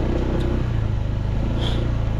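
An ADB 160 motorcycle engine runs steadily near the rider on a Bicol road, with a low, continuous drone and slight pitch shifts rather than sharp revs.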